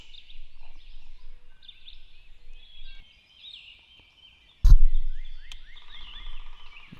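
Wild turkey gobbling in Mississippi woods, several rolling calls at a moderate distance, with a sudden loud close knock or thump partway through and no speech.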